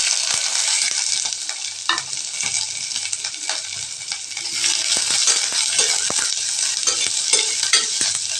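Onions sizzle and crackle steadily in a hot pan, with occasional stirring scrapes and clinks, while cooking red aval upma with green chillies; no talking.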